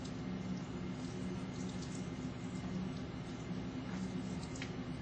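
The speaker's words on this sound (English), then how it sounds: "Rinses hands and forearms, holding them upright, allowing water to drain from hand to elbow." Tap water running steadily as hands and forearms are rinsed at a sink, a soft, even rush with no talking.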